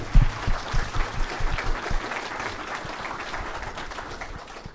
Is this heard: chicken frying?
no